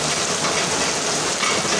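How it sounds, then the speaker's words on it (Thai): Heavy rain pouring down steadily, a dense close hiss of drops on surfaces with no break and no voices. "เนี่ยฝนตกหนักเลยวันนี้"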